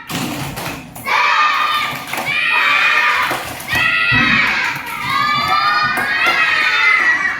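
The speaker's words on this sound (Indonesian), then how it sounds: "Coba tepuk semangat." A classroom of children chant together in loud, rhythmic bursts for a 'tepuk semangat' clapping routine, with thumping hand sounds under their shouted voices, repeating in phrases about every second or two.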